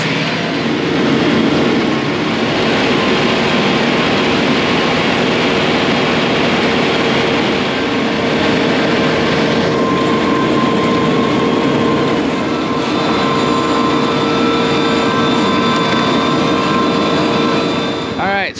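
A tractor mowing a pasture, its engine drone and mower clatter running loud and continuous from start to finish, with talk heard over the machinery.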